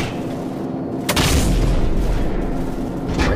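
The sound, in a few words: cannon fire from the video game Call of Duty 4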